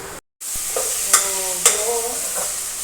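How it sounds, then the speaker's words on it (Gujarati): Onion and potato sauté in hot oil in a pan, giving a steady close sizzle with a few sharper crackles and stirring scrapes. No one speaks. "થોડી વાર માટે આપણે તેને ઢાંકી દઈશું, જેથી કરી અને ડુંગળી બટેટા સારી રીતે સતળાઈ જાય તેલમાં."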